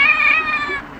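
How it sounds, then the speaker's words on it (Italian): A single long cat meow, loud and close, drawn out and slightly wailing before trailing off, with no talk; the cat is an adopted rescue once abandoned for a year. "Ecco qua, senti il gatto."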